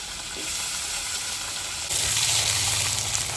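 Raw taro pieces drop into hot oil in a pan, and a soft sizzle jumps into a louder, steady frying hiss that continues to the end.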